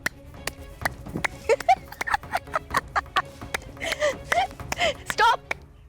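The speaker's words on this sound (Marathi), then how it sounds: "टाळ्या वाजवत गोल फिर." Sharp hand claps sound repeatedly in an uneven rhythm, fairly close, while a person turns in place; a voice speaks and vocalizes between the claps.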